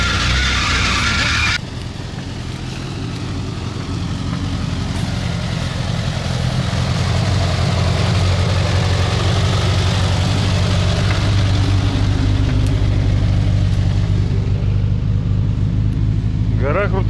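Off-road vehicle grinding up a steep, deeply rutted hill, engine droning loud and close under strain with rumbling and brief skids, people speaking over the noise.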